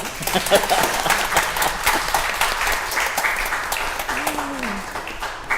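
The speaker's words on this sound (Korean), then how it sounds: "박수." A church congregation applauds after the choir sings a newly written hymn, steady dense clapping filling the room for several seconds with a few voices faintly mixed in.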